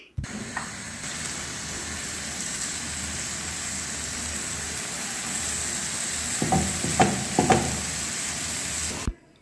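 Escalope (scallopini) sizzling in a frying pan, a steady loud hiss with a few clattering utensil knocks toward the end.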